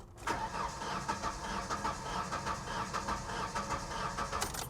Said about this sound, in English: I'd like to hear it crank just one more time.